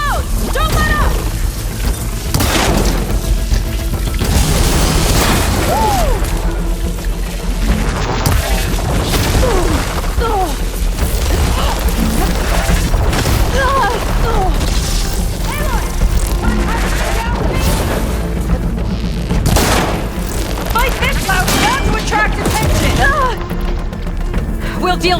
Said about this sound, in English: Plasma's going to explode!